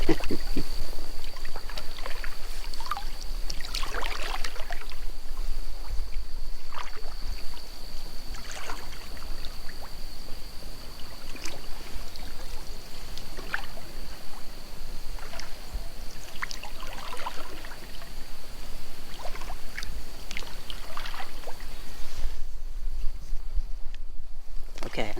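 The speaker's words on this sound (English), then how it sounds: "going to keep paddling" A canoe is paddled across water, with soft repeated splashes and drips at an irregular rhythm over a steady outdoor background hum, close by and moderately quiet.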